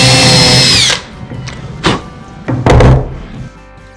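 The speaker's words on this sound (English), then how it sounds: "We'll then drill our second pilot hole." A loud power drill whirs for about a second drilling a pilot hole in wood, then stops, followed by a few sharp knocks and clunks in a quiet workshop.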